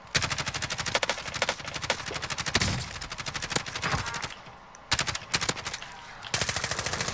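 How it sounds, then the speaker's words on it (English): Rapid automatic gunfire in Warzone rattles out in long, fast bursts with short gaps between them, loud and close, with almost no talk. "Oh, another shot."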